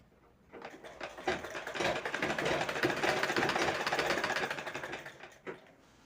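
Sewing machine running steadily for several seconds, stitching thread piping onto a blouse sleeve, with a close mechanical whir that starts, holds level, then stops.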